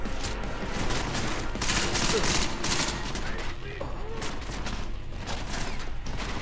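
A machine pistol fires in rapid sustained bursts in the video game Deus Ex: Mankind Divided, dense loud automatic shots with mechanical clatter over game ambience.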